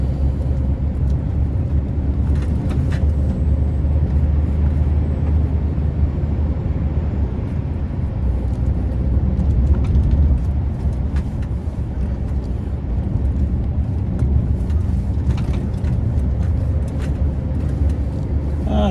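A heavy truck grossing around 42 tons drives along with a deep, steady engine drone and road rumble, low and continuous for the whole stretch, with occasional faint clicks over it.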